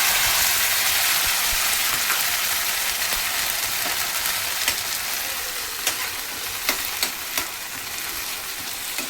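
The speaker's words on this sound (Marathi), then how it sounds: "हे जे आपण हिरवं वाटण करून ठेवलं होतं ना ते आपण ह्यामध्ये टाकून ह्याचं थोडंसं याला फ्राय करूया" Green spinach masala paste fries with onion in a pan for palak paneer, a loud dense sizzle like steady rain, with spatula scrapes and sharp ticks growing more distinct toward the end.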